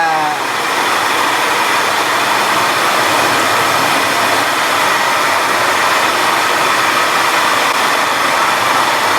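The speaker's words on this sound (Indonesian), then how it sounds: "Proses ini kita masuk ke mesin gilingan." A grinding mill machine processing soaked material runs with a loud, steady, dense roar that holds unbroken throughout, close by.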